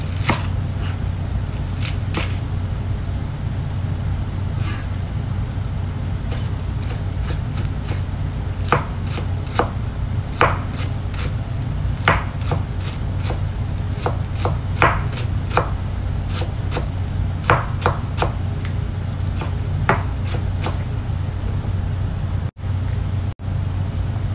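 Knife chopping American lettuce very thinly on a cutting board for salad, a steady run of crisp, close taps with short pauses over a constant low background hum.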